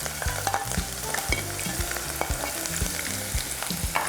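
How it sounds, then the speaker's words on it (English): Onion sizzles steadily in hot vegetable oil in a pan, a dense crackling hiss with occasional utensil knocks against the pan throughout, fairly close and with no talking. "and wait for it to sizzle a bit"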